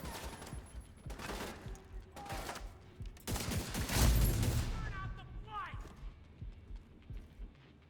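Gunfire in a shooter video game: rapid bursts of shots, dense and loud at times, with game voices and other game effects mixed in.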